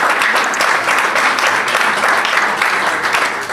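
Guests at a gala dinner for a charitable foundation burst into loud, close applause, a thick wash of clapping that swells and dips slightly in waves for a few seconds.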